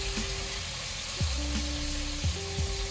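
Oxtail pieces hit hot oil in a pot for Jamaican oxtail, setting off a steady close sizzle and crackle, with a few soft clunks of meat being lowered in.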